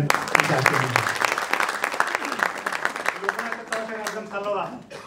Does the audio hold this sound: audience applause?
yes